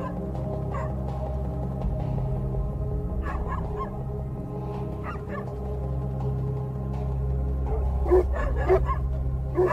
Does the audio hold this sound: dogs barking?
yes